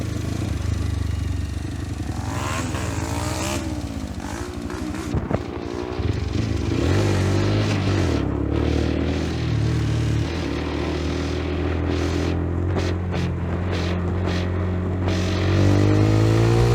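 A Mondial 125 Drift L motorcycle with an aftermarket exhaust runs steadily and loud and close, its engine note rising and falling with throttle changes and revving harder near the end.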